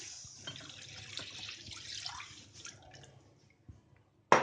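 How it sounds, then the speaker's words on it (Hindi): Full cream milk poured into a kadai on a gas stove while making rasmalai, a soft liquid trickle and splash with faint drips that fade out, ending with a sharp clink. "अब गैस पे कढ़ाई रखेंगे, उसमें डाल देंगे ये दूध।"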